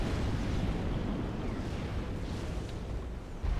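Dense, continuous rumbling explosions from battleships blowing up in the strategy game Forged Alliance Forever with an explosions mod, a heavy low roar with overlapping blasts and a sharp burst near the end, with no voices.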